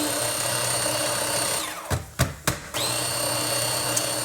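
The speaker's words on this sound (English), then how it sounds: "I have my little mini chopper here, so I've put half of it already in here, and it says pulsate it till it's pulped or something, grinded" A small electric mini chopper whirs loudly as it grinds recipe ingredients for spaghetti, running steadily, then cut into three short pulses before resuming a continuous close buzz.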